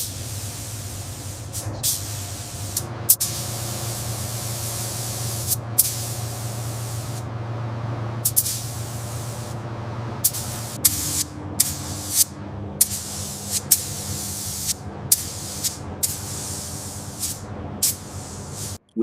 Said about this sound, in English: With the first coat of paint, the Bugatti's identity begins to emerge.